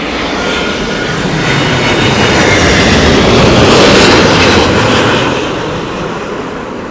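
An Airbus A320neo-family airliner at London Heathrow in strong winds produces a steady, broad engine roar. The roar swells toward the middle of the pass and eases slightly near the end, heard alone with no talk.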